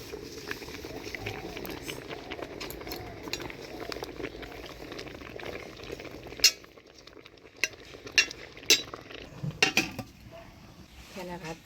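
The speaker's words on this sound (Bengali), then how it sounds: "এদিকে লাউ পাতাটাও সিদ্ধ হয়ে গেছে, হাঁড়ি ধরেই নামিয়ে দিলাম।" Bottle gourd leaves boiling in a pot in a Bengali village kitchen, a steady bubbling simmer with scattered clinks of pots and utensils, sharper metallic knocks in the second half.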